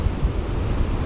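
Wind blows strongly against the microphone on a beach at Praia dos Tomates during a paragliding flight, heard as a brief, loud, gusty rumble.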